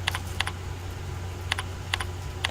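Typing on a computer keyboard in short close bursts, a few keystrokes at a time separated by pauses, over a steady low hum with no talking.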